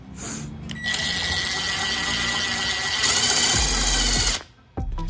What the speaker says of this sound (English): So we'll put our impact drill in here